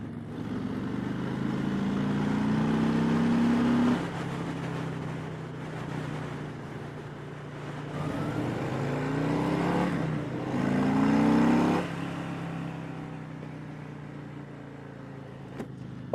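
Harley-Davidson Fat Boy 114 motorcycle on stock exhaust, ridden behind traffic: a steady low engine drone with swelling and easing revs, soft wind rush over the microphone, moderately loud throughout.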